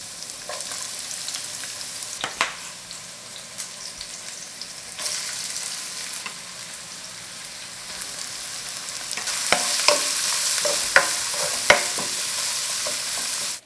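Garlic crisps to light brown in a few tablespoons of vegetable oil for a spicy stir-fried octopus dish, giving a steady close sizzle with occasional sharp clicks and scrapes of stirring, growing louder toward the end.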